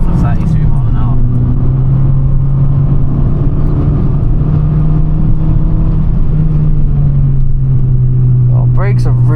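A Fiat 500 pulls away under launch control, its engine droning steadily and loud from inside the cabin with a sustained low hum, while voices talk briefly over it.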